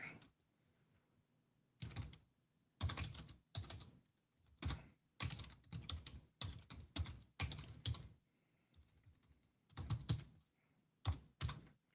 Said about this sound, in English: I got to be quiet when I'm typing